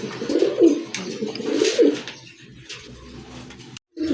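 Satin pigeons, a breeding pair, coo repeatedly in close, low throaty bursts, loudest in the first two seconds, then quieter murmuring with a brief dropout near the end; no talking.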